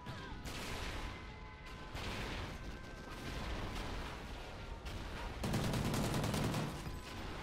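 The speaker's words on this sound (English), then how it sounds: "wait, it's the mortar fire thingy" Mortar fire from a killstreak in Call of Duty Ghosts rains down as a dense, continuous barrage of distant booms and rapid gunfire, growing heavier near the end, with no voices over it.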